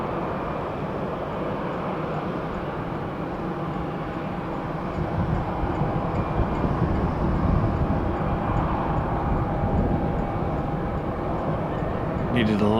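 A Gulfstream G5 business jet takes off from a runway, its broad engine roar steady and loud, swelling slightly midway and holding strong as it accelerates, heard from a spotting position nearby.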